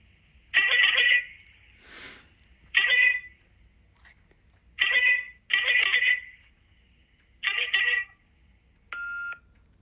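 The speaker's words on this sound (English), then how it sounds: "All right, let's give him a call," A phone rings over a loudspeaker during an outgoing call, with repeated warbling ring bursts in an irregular rhythm and short pauses between them, fairly close and clear, ending in a brief electronic tone.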